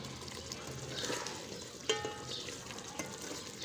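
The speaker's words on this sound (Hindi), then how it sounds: "अभी इसकी बुनाई शुरू करते हैं।" Beef karahi gosht, tender meat with tomatoes, stir-fried in oil in a karahi, with a steady close sizzle and scraping stirring strokes and one sharper clatter midway.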